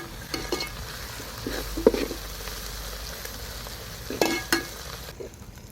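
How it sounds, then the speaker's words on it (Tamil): Onions, turmeric and spices sizzle quietly in a pan for a country chicken curry, with occasional stirring scrapes and clinks, steady and fairly faint, no voices. "அதையும் சேர்த்து நல்லா வதக்கிக்கலாம்"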